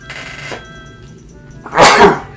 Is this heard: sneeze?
yes